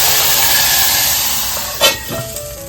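Kadhi poured into a hot cumin tempering: a hot sizzle with steamy hissing throughout, a sharper burst of crackling partway through as liquid hits the hot pan.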